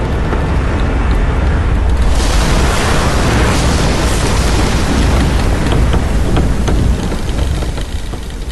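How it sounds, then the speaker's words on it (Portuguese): Heavy rain pours loudly and continuously while deep thunder rumbles roll through, a dense storm effect with no voices. "E houve chuva sobre a terra 40 dias e 40 noites."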